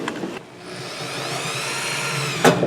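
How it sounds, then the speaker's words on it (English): A steady whirring drill runs continuously for a couple of seconds, drilling holes for a homemade gravity-fed chicken feeder, with short clunks at the start and end, close by. "We're going to drill some holes here."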